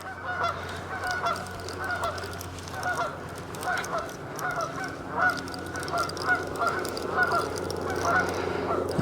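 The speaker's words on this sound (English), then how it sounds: "God, I wish those geese would shut up" Geese honk again and again near a fishing spot at the water's edge, a steady flock chorus running over a low constant hum.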